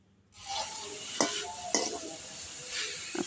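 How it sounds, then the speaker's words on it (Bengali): Chopped ghetkol leaves drop into hot oil and fry with a sudden, continuous sizzle, while a spatula scrapes and taps the pan a few times. "বাকি তেলের মধ্যে দিয়ে দিব সেই ঘ্যাটকল পাতা কুচি। পাতাগুলোকে একটু ভালো করে ভেজে নেব।"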